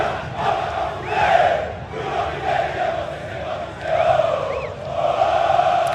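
Corinthians football supporters chant in unison at São Januário stadium, a large crowd singing loud rhythmic phrases that swell and fall in repeated waves, the mass of voices filling the whole stretch.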